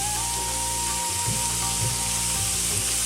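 Butter chicken ingredients with garlic, ginger paste and salt frying in a pan over medium heat, a steady close sizzle with occasional stirring scrapes and no talking.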